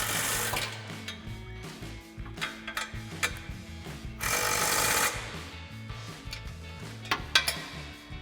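A 14mm socket on an extension with a universal joint ratchets and clanks while tightening spring-mounted exhaust bolts on a 2022-2023 Toyota Tundra MBRP Armor Lite side-exit system, giving irregular metallic clicks and a sustained burst of rattling near the middle.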